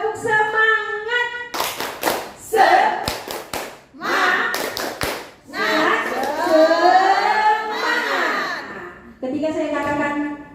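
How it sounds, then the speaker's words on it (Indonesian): A group of adults at a teacher training session performs a rhythmic Indonesian chant-clap, several sharp bursts of hand claps in patterns, alternating with loud chanted voices and a leader speaking. "Tepuk semangat."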